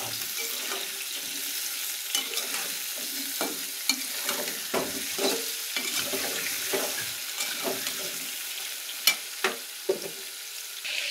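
Potatoes fry in a pan for a hilsa and potato dish, a soft steady sizzle broken by repeated scraping stirs and sharp spatula knocks, louder toward the end, close up with no talking.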